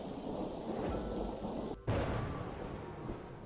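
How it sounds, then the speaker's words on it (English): A video game storm scene where drizzle has turned into a downpour: dense heavy rain hisses steadily while a sharp thunder crack bursts in midway, then the rain roars on without speech. "already the drizzle has turned into a downpour"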